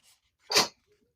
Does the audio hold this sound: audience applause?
no